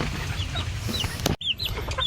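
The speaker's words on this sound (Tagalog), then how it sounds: "Dito po yung ating mga sisiw guys." Young chicks being raised in a pen chirp in high, thin peeps scattered throughout, close by over low background noise, with a brief handling thump midway.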